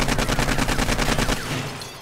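Rapid automatic gunfire in the survival game 7 Days To Die, a fast, loud burst of about a dozen evenly spaced shots that stops abruptly and leaves a fading tail.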